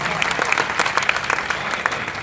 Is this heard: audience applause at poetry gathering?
yes